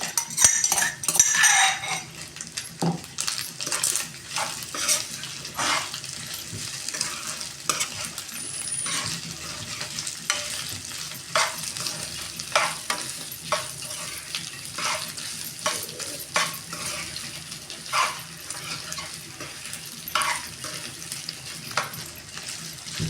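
Ginger garlic paste frying in a pan for a raw tamarind-style curry, with steady sizzle under a spoon repeatedly scraping and clinking against the metal in close, irregular strokes, no talk.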